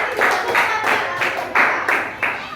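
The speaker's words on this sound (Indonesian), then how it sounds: "Ayo tepuk tangan." A short burst of hand clapping from a small group in a classroom lesson, quick and uneven, fairly close, with no talk over it.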